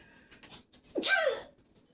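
A single loud, close sneeze bursts out midway while a meatloaf is being seasoned with Sazon and onions, framed by faint breathing and quiet kitchen background.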